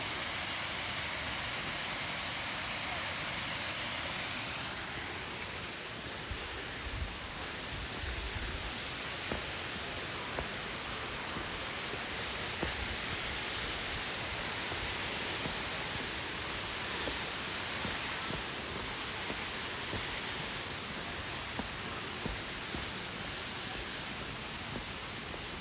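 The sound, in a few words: waterfall at Mount Rainier National Park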